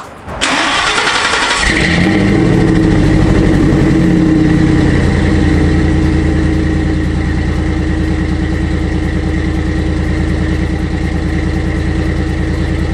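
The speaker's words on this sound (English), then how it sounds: "So I'm gonna go ahead and start it up real quick and take it for a quick drive" A Ford Lightning pickup truck's engine cranks briefly, catches and settles into a loud, steady idle that runs slightly rough, close by and alone with no talking.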